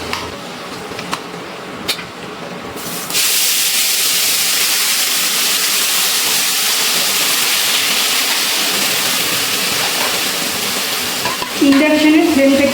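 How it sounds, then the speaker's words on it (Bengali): Marinated chicken dropped into ghee in a wok on an induction cooker, starting with a few clinks, then a loud, sudden, sustained sizzle that persists steadily to the end. "এবার এই ঘিয়ের মধ্যে আমি ম্যারিনেট করা চিকেনটা দিয়ে দিচ্ছি।"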